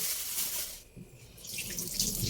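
Tap water runs steadily into a kitchen sink, a close hissing gush that briefly drops away for a moment before flowing again, with faint clatter underneath.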